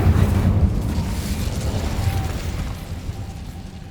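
The Incendio fire spell erupts in the Hogwarts Legacy game as a heavy, low roaring whoosh that is loud at first and slowly fades over a few seconds.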